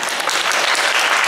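An audience at a film first-look launch event claps in a dense, loud burst of applause lasting a moment.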